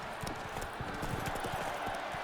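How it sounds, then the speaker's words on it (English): Horse hooves clip-clopping in the video game The Witcher 3, a quick, fairly faint series of hoof beats with a soft ambient background. "Whoa there, Roach."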